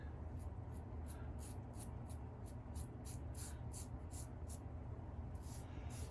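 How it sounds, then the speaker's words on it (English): Home air conditioning running in the background, a faint, steady broadband hum and rush with no talk, continuous over the whole stretch. "my air conditioning kicked on"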